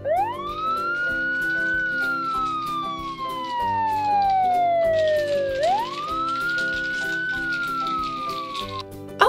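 A loud siren wails close by, its pitch rising and then sliding slowly down in long sweeps, repeating the cycle over a low hum of engines.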